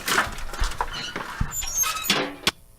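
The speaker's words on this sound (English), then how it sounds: "I had to try to find a bunch of metal sound effects from our like libraries that we have" Library sound effects of footsteps in metal armor, a short run of clanking, scraping metallic impacts at uneven intervals, fairly close and with no one talking.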